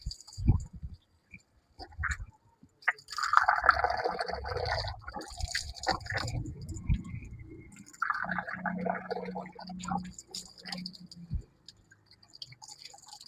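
Water splashes close by as the face is washed for wudu ablution, with a few uneven bursts of splashing and dripping and no talking.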